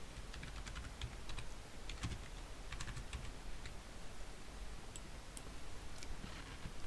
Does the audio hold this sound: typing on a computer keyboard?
yes